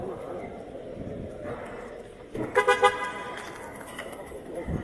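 A car horn toots several times in quick succession as a car arrives where press members are waiting, rising briefly over a murmur of crowd voices and traffic noise.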